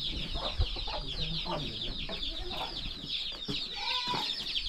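Chicks on a farm cheep steadily in a busy high chorus, with a few clucks mixed in, close by, while a voice talks briefly underneath.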